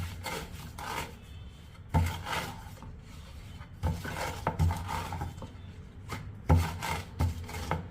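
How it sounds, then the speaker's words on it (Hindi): A rolling pin works Sindhi papad paratha dough on a wooden rolling board, making soft, repeated rubbing and rasping strokes with a few knocks as the board is turned. The sound is close and moderately quiet, with no talking. "बस इसे इस तरह से बेलते जाएं, चकले को घुमा घुमा कर"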